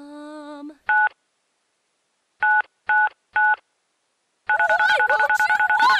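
Telephone keypad tones: a single beep, a pause, then three quick beeps, followed by a rapid string of dialing tones at the end, clean and close; a short voice-like sound comes before the first beep.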